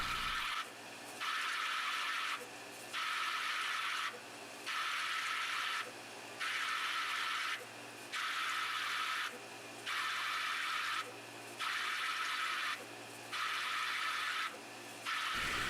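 An electrical discharge machine cuts with dielectric fluid circulating, giving a steady hissing rush that pulses in regular bursts about every two seconds, with a faint low hum underneath and no voices.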